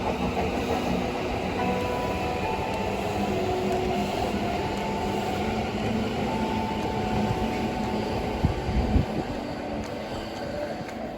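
Trains rolling along several tracks beneath a pedestrian bridge at a Tokyo station, a steady, loud rumble with rail clatter that continues throughout, with no talking.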